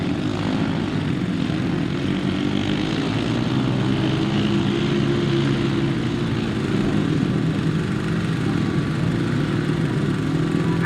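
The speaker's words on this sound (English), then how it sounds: "Here come the 500cc sidecars." Several 500cc sidecar motorcycles race on a grass track, their engines droning steadily at a distance in one continuous, even roar with no voices.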